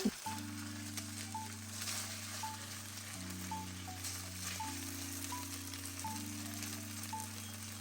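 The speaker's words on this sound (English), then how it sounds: "We'll spread them out and let it pan fry until the bottom is golden" Chicken pieces spread out pan frying in a pan with broccoli: a soft, steady sizzle and crackle, faint and close, under sustained background music.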